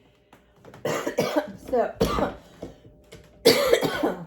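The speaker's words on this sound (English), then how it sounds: "got my cough" A person coughs repeatedly in short, loud bursts while making zucchini cake frosting in a home kitchen. The coughs come close up in uneven clusters, with brief speech mixed in.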